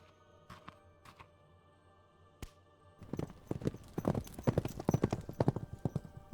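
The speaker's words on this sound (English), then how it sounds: "Your carriage driver leaves with haste" A horse-drawn carriage pulls away with a steady run of hoof clip-clops on hard ground, the hooves growing louder and denser as it moves off, with a few isolated knocks beforehand.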